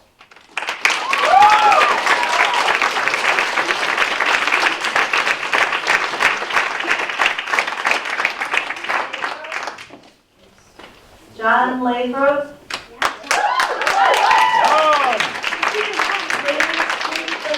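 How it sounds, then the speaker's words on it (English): Loud audience applause at a school board meeting, dense clapping that stops briefly midway while someone speaks, then resumes strongly. "Applause down, please."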